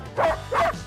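A dog barks on command, giving two quick, close, full-voiced barks in succession with no talking.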